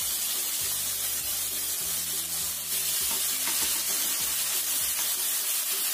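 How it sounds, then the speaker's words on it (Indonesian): Chili peppers sautéing in a hot pan for a tofu dish, with a steady close sizzle and frying hiss alongside rhythmic low scraping or stirring strokes throughout. "Ini kita tumis dulu cabenya"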